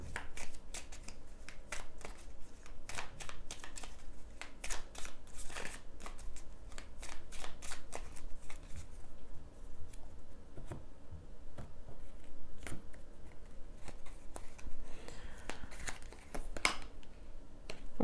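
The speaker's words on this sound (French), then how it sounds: "On va recouvrir les cartes." Playing cards shuffled and handled up close: quiet crisp riffles and snapping flicks repeating in quick bursts, then softer sliding and tapping, with no talking.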